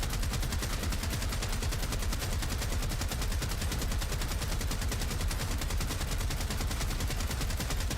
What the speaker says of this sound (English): I shoot them like this